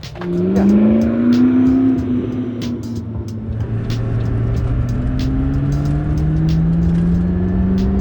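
A McLaren in race mode drives with a loud, mechanical engine note that swells and holds a steady rising drone, close and continuous with no talk over it.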